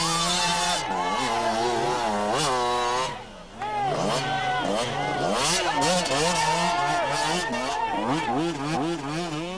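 125cc enduro motorcycle racing in heavy rain, its engine revving hard and loud with rapid rising and falling pitch sweeps, a brief dip midway, with a voice talking over it.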